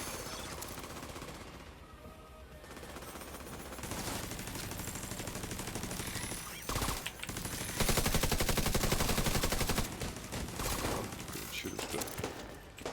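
Sustained video game gunfire in Division 2, dense rapid automatic bursts and shots, loud and continuous for several seconds, with players talking over it.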